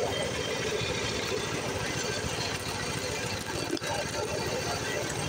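Kartko Power Ride 675 go-kart engine running: a steady, moderately loud mechanical rumble with a fast pulsing chug, continuous with only slight dips and one brief knock near the end.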